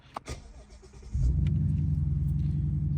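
A Ford Mustang Shelby GT350 fired up with a start button: a couple of faint clicks, then the engine catches and settles into a loud, deep, steady rumbling idle.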